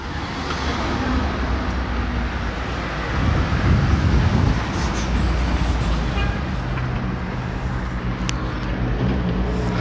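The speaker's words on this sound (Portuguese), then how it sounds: "esses carros que estão subindo, chegando aqui, eles dão a parada" Cars climb a steep, narrow two-way street with no sidewalk, the engine noise and tyre roar swelling close by midway and then settling into a steady traffic wash.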